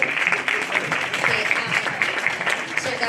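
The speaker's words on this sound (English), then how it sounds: "guys, you don't need to clap after every sentence." Audience clapping at a university student heritage month gathering, a dense, steady patter of many hands running unbroken throughout, fairly close and loud.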